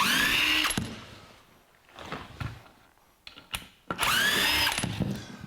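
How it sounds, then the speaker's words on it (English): Power screwdriver whirring in two loud bursts, with a few clicks and softer handling noises between, while bottom screws come out of a 1982 Jeep CJ7 dashboard. "So we'll take the bottom screws out here."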